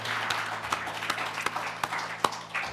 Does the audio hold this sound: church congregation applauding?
yes